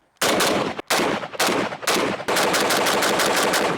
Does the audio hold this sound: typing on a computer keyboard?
no